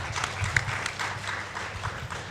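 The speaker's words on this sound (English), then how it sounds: "let's give applause to Professor Hasbullah." A session audience at a T20 and B20 policy forum gives a professor a round of applause: soft, scattered clapping that sounds fairly distant and thin, with a low hum underneath.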